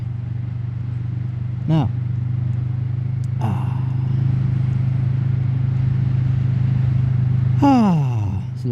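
Steady engine drone of a Kawasaki Vulcan S motorcycle on a road ride, with wind rumble throughout and a rough gear change, while a rider talks over it.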